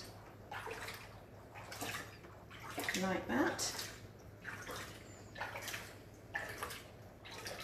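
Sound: baby being swished in bath water

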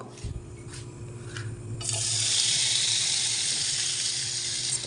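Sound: fish frying in oil with cumin

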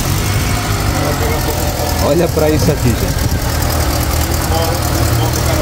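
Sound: Volkswagen Parati car with AP 1.8 engine idling

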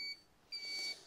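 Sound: alarm beeping in a farm vehicle

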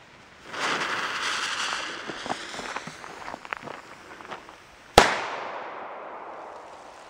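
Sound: large black firework cannon banger exploding

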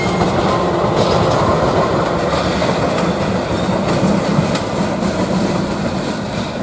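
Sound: diesel locomotive CC 206 arriving to pull Argo Bromo Anggrek train

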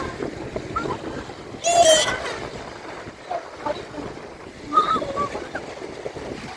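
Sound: sea waves

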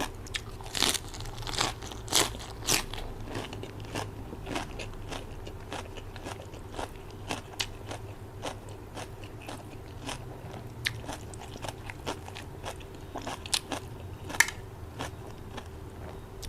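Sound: biting and crunching crispy fried snack while eating

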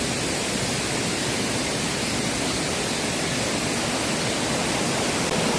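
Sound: flowing water of a stream near a waterfall

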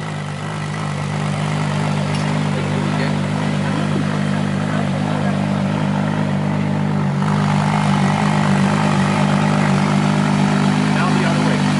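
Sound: supercar engine running

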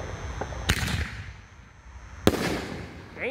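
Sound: Brocade canister firework shell bursting

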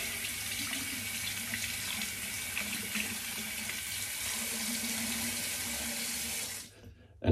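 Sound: tap water rinsing hair out of a safety razor

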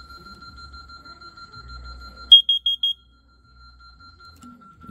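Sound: CO detector alarm panel going off

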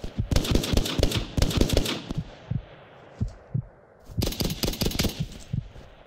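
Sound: gunfire in the video game Hell Let Loose

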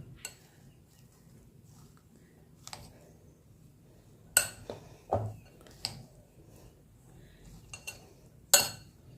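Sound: spoon loosening soaked sabudana in a bowl

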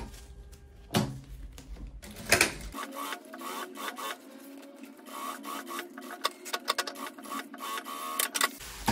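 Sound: sewing machine stitching a lunch bag

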